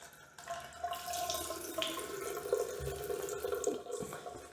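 Water runs steadily from a tap for washing a Longchamp bag, a close, continuous splashing stream with small drips and shifts as the bag is moved under it.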